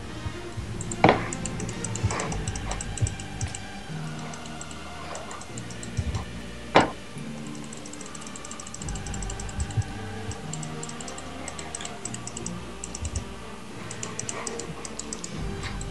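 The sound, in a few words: computer mouse clicking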